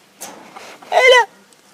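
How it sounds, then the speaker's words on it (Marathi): A hen in a coop gives a few soft clucks followed by one louder, squawking cackle, close and brief, with no talk. "कोंबड्या ना कोंबडे बघतो"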